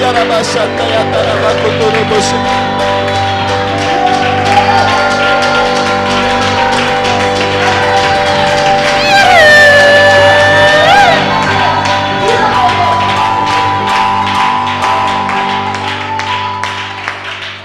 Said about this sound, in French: Allez, on acclame le Seigneur pour tous ses bienfaits.